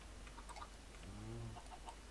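Chickens in Minecraft give a short, faint cluck partway through, barely rising above a steady low background hiss.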